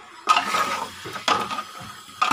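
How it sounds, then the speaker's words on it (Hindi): Ground powdered spices sizzle and get stirred in a pan while cooking nihari, three scraping bursts of frying noise in a steady rhythm, close and fairly loud. "और इसे अब मसाले ऐड करने के बाद फिर मैं 2 मिनट इसे अच्छे से भून लूँगी।"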